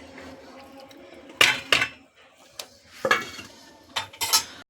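A metal lid is set on a cooking pot of bottle gourd curry, making several sharp clanks and rattles of metal against metal, close and loud, separated by short quiet gaps.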